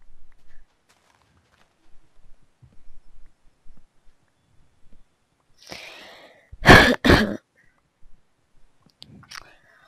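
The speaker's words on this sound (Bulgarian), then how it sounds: "Малко кашля." A person coughs a few times in a short close burst, amid quiet surroundings with faint clicks and soft murmuring.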